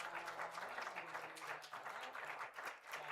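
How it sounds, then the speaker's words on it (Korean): A church congregation at a Sunday morning service applauding, a dense patter of hand claps that is muffled and faint, lasting a few seconds without a break. "우리 한번 박수 한번 하도록 하겠습니다"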